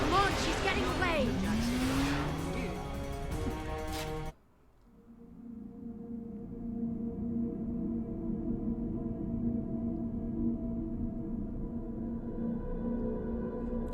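Revving engines and squealing tires from a driving sequence in the game Mass Effect roar loudly for a few seconds, then cut out, leaving a quieter steady engine drone underneath.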